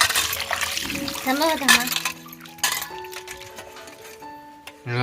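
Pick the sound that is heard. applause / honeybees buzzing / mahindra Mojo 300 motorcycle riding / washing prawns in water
washing prawns in water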